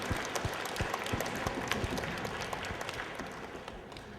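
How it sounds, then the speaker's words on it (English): Audience applause at a live comedy stand-up show, a steady wash of many hands clapping with sharp individual claps standing out, fairly even in loudness throughout. "we need to give you guys a round of applause"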